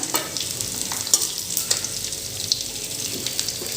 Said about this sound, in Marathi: हे सुद्धा आपल्याला तेलात व्यवस्थित भाजून घ्यायचे आहेत हा कांदा आपल्याला व्यवस्थित कडक होईपर्यंत